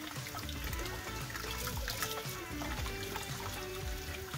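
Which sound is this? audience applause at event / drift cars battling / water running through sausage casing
water running through sausage casing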